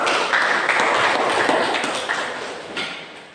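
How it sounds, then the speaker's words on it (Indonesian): Classroom applause for a student named Tri Lydia after her answer about generative reproduction, a brief burst of clapping from a group that fills the clip and fades toward the end. "Kasih tepuk tangan untuk Tri Lydia ya"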